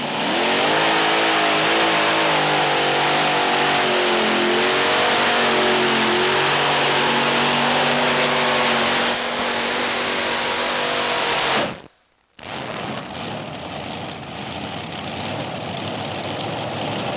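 A modified pulling tractor's loud, heavy engine roars continuously at high revs for a long stretch at a 1996 tractor pull in Chapel Hill, Tennessee, cuts out abruptly to near silence, then returns in a rough, throaty blare.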